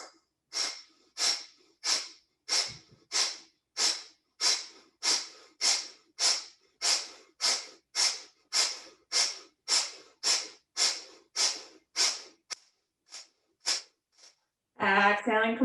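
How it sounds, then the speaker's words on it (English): Kapalabhati yoga breathing during a seated twist, with a fast, even series of about twenty sharp, forceful nasal exhalations close to the mic. The pumping pace slows near the end, and a voice briefly begins speaking at the close. "invitation to take Kapalabhati breath here in this twist"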